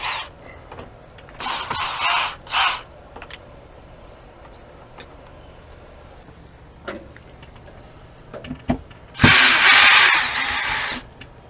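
A cordless power tool spins out screws from an RV door striker plate in several short whirring bursts, separated by quiet pauses and small clicks, with a longer final burst.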